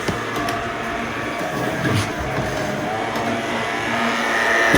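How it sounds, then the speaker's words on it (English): Model trams run on a model railway layout with a continuous rolling, rattling rumble of small wheels on track. The sound is steady and close and swells slightly toward the end, with no talking. "if we don't stop these two trams, they're going to catch up with each other"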